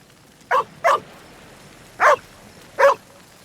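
A dog gives four sharp, short barks, two in quick succession followed by two more spaced apart, loud and close against an otherwise quiet background.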